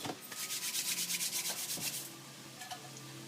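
Cheese grated over crispy cardoons gives close, rhythmic rasping scrapes, a quick run of even strokes that then slows to a few lighter rubs, with no voices.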